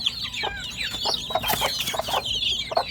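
Three mother hens cluck close by in soft, overlapping bursts and chatter, alongside a few higher squawks and chirps, with no talk.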